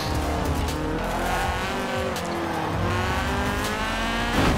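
Honda Civic '97 with VTEC engine driven in Forza Horizon 4, engine revving hard and climbing through gears with tire squeal, loud and close throughout with a final surge at the end.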